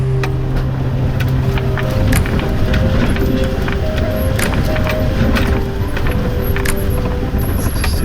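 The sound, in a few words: truck engine revving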